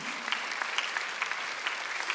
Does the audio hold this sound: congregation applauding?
yes